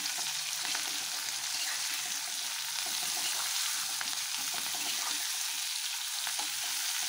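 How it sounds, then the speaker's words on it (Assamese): Continuous dense sizzling of jackfruit with salt and turmeric frying in hot oil, crackling and popping steadily up close, with occasional stirring scrapes and no voices. "ৰঙচুৱা হোৱালৈকে এখিনি ভাজি লম কঁঠালখিনি"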